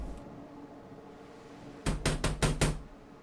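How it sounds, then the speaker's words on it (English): Five quick, loud knocks on a door in the detective video game I Played: Detective, set on a rainy night, coming in a tight burst after a quiet stretch of low ambient hum. "They don't say anything, just keep knocking on the door."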